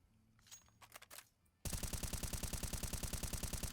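An M4 rifle in Counter-Strike 2 fires a loud, rapid automatic burst of evenly spaced shots after a few quieter clicks and handling sounds at the start.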